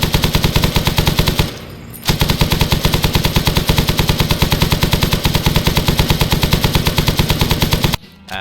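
Machine gun fire in the video game ArmA 3 Prairie Fire: rapid, punchy automatic bursts hammer on continuously, broken by a brief pause near the start and another near the end, loud with no voices.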